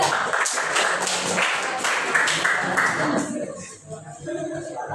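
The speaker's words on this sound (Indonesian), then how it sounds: "Tepuk tangan buat kelompok 2." Classroom applause for a student group after a presentation, a burst of clapping from several people that thins out toward the end, with voices mixed in.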